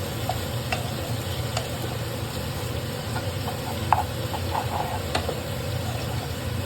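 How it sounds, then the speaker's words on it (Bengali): Taro being stirred in ghee with garam masala in a frying pan, a steady close sizzle with scattered scraping taps of the spoon against the pan, no voices. "এবার এটাকে আমি ভালো করে নাড়াচাড়া করে দেবো।"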